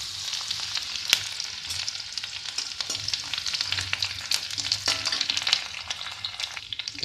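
Garlic frying in hot oil alongside cinnamon, a steady close sizzle with occasional sharp crackles and spoon-stirring clicks throughout, no voices.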